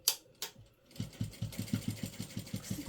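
A sewing machine stitches a shirt seam, starting up after a couple of soft knocks and then running in a quick, even, rhythmic whir of needle strokes.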